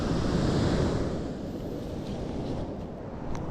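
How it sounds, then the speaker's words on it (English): Angry, churning ocean surf rolls continuously and loudly along a beach, a steady wash of breaking waves with wind buffeting the microphone and no voices. "The ocean is a little bit angry, not as angry as it was earlier, for sure."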